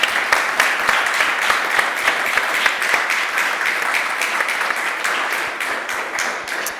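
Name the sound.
audience applause for panelists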